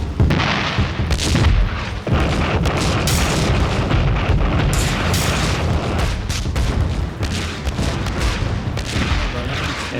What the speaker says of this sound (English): The artillery started falling on Hoshnia.